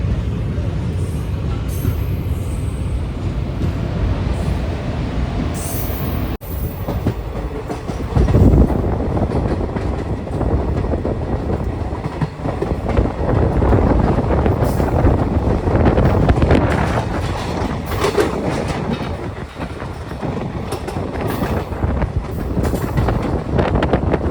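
Heard from on board, an Intercity Express train runs between Tirupati and Tiruvannamalai with a loud, continuous rumble of wheels on rails, rhythmic clickety-clack, and gusting wind noise swelling partway through.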